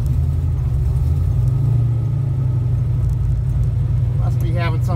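A classic car with a rebuilt transmission and clutch cruises past a high school, its steady low engine rumble continuous and close, changing slightly as it moves through the gears, with someone talking briefly near the end.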